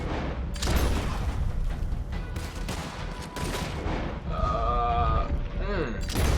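Gunfire in the Red Dead Redemption 2 video game, with repeated sharp shots and booms layered over in-game music and effects, loud and dense, while a voice talks over the action.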